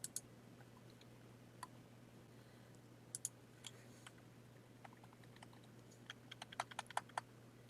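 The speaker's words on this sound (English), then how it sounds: "I'm just using my arrow keys on my keyboard to move it." Arrow keys clack on a computer keyboard in a quiet room, with scattered single taps that turn into a quicker cluster of faint clicks over a low steady hum.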